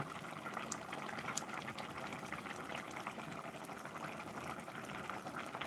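Northern Thai sweet taro leaf curry with pork cracklings simmers down in a pot, giving a soft, continuous bubbling hiss that stays steady and faint throughout, with no talking.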